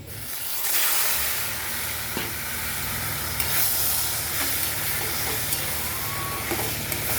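Boiled taro leaves hit frying onions with a loud, steady hiss and sizzle, and occasional stirring clinks and scrapes carry on throughout without speech.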